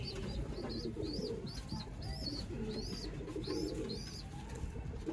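Sialkoti breeder pigeons coo in repeated soft, rolling calls close by, several birds overlapping over a steady loft hum and background rustle, with no talking.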